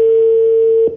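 A telephone line tone comes through during a radio phone-in call, a single steady electronic hum held for about a second, loud and clean, before cutting off abruptly.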